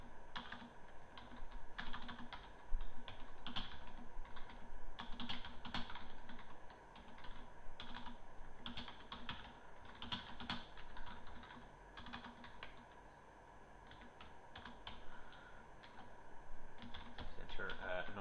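Typing C code on a computer keyboard, with quick bursts of close, clicky keystrokes separated by short pauses and a fairly even rhythm throughout.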